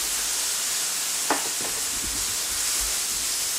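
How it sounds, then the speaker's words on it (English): Green, purple and yellow onions and other vegetables sizzle in a pan with sauce for chow mein, a steady broad hiss with a few soft stirring clicks partway through. "I start to add the veggie on the pan with the sauce over here."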